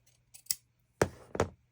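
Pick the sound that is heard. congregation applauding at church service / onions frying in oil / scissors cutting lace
scissors cutting lace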